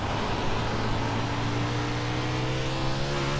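A USAC 360 sprint car engine in iRacing, a steady loud drone whose pitch wavers slightly as the throttle is worked, heard alone and close for a few seconds.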